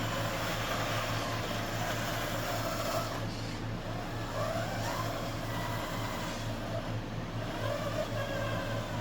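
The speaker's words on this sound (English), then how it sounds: "17-to-1 planetary drive motor with a 55 turn RC 4-wheel drive brushed motor" A 1/14 Tamiya Bruder Mack Granite RC dump truck runs on its 55-turn brushed motor through a 17-to-1 planetary gearbox, giving a steady low electric hum and gear whir, faint and continuous with no voices.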